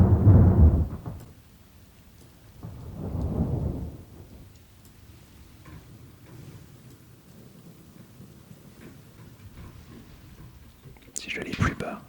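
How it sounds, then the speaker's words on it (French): A thunderstorm rolls through: two deep thunder rumbles early on, the second fading slowly, over a soft constant patter of rain, with a sharper crackle near the end. "Simplement des bruits de pluie, des ambiances de pluie et d'orage."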